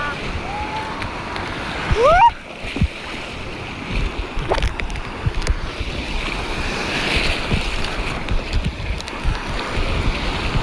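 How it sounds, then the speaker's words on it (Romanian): Big sea waves at Tarragona beach in Spain, a steady roar of surf and wind across the microphone, with a brief whistle early on and continuous wash throughout. "Bă-s valuri mari acum."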